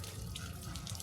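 A shower runs with a steady, close hiss of falling water, unbroken for the whole moment with no voices over it.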